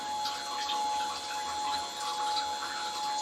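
Homemade oil skimmer siphoning oil off water, a soft continuous trickling and gurgling with a thin steady whine running underneath, fairly quiet and close.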